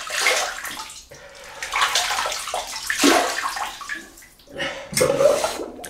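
Tap water runs into a basin as pre-shave preparation, a loud, close, splashing gush that rises and falls as hands move through the stream.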